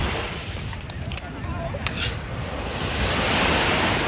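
Sea waves rolling onto a Dubai beach, a continuous broadband wash of surf mixed with wind rumble on the microphone that swells slightly louder toward the end.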